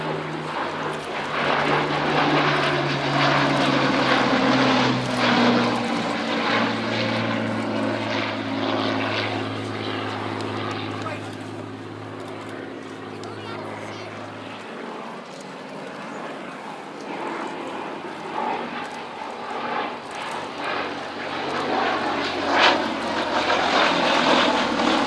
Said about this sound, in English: Talking of which, running in from the right, the Gladiator and Hurricane.